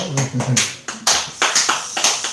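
Hand clapping during a Korean church service, a series of sharp, slightly uneven claps in quick bursts, fairly close and clear with no talk over it.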